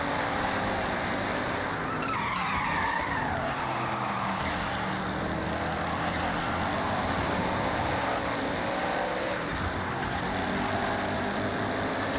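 In the racing video game Forza Horizon 6, a car locks its brakes and slides, its tires skidding and squealing over a constant loud engine and road roar.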